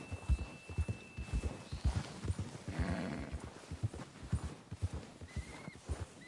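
A horse in Red Dead Redemption 2 trots along with repeated clip-clopping hoofbeats, steady and fairly close, with a brief whinny-like rasp partway through and no speech.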